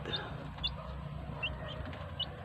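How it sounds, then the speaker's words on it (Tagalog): Day-old Rhode Island Red chicks give a few short, high peeps scattered over a low background rumble, faint and spaced apart with no talking. "Nabili ko ito 2 pirasong Rhode Island Red, day old."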